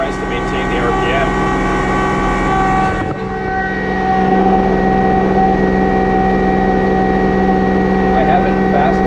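A Kubota LX2610 compact tractor engine labors up a steep hill under load with cruise control holding the RPM, a loud, steady droning hum with strong harmonic tones that dips briefly before settling back in.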